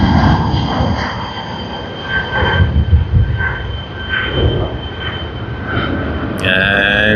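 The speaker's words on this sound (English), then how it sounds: "And we have Delta coming in from Los Angeles, landing on runway 16L." A Delta airliner from Los Angeles lands on runway 16L at Sydney Airport, a loud, sustained jet roar and rumble with steady whining engine tones that swell and ease slightly.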